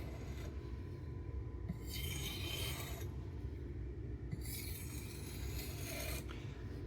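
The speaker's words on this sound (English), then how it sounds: "Then you want to come back with some very light pressure edge trailing strokes" Knife of MagnaCut steel drawn in light-pressure edge-trailing strokes across a sharpening stone, giving soft rasping swipes in a slow rhythm, each lasting about a second and a half, close and quiet.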